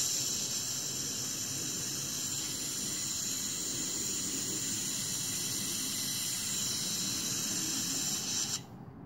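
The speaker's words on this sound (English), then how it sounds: "if I open up the valve, you should hear some gas coming out" Shielding gas hisses from the regulator valve of a Harbor Freight Titanium Multiprocess 200 welder set up for TIG, a steady bright rush that runs for about eight seconds before cutting off sharply.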